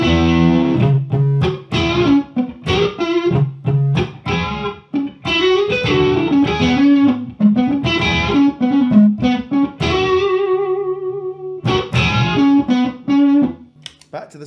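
Electric guitar played through a Two-Rock amp with its classic reverb, strummed chords and single notes ringing loudly with a washy tail, some sustained tones fading into short gaps.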